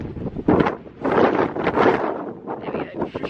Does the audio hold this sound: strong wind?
yes